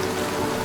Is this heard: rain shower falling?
yes